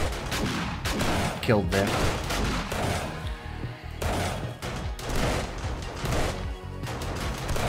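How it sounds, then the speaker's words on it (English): Turret gunfire shooting at zombies during a horde night in 7 Days To Die, rapid bursts of shots coming in clusters over background game noise, with someone talking over them. "there is a couple of shots being shot there at the turret on the other side"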